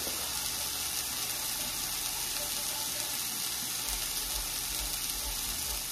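Salmon fillet searing skin-side down in a pot, giving a steady, even frying hiss that holds constant and unbroken from start to finish with no talk over it.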